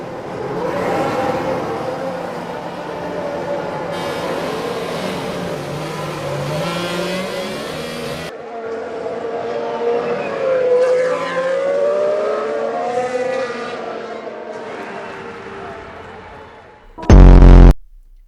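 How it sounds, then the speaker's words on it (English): Formula 1 cars doing donuts on a race track: loud, continuous engine howl with rising and falling revs and tire whirl, the pitch sweeping repeatedly as the cars spin, ending in a brief sharp burst. "Hamilton and Vettel, along with Alonso, did a couple of donuts together on the track."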